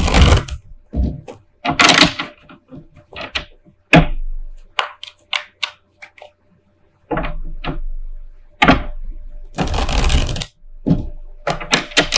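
Bursts of tarot cards riffling and flicking, close and loud, in several separate rounds with pauses between.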